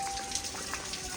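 Rain falls steadily in Munnar, Kerala, a continuous soft patter of drops on surfaces through the whole short stretch, with no voices over it.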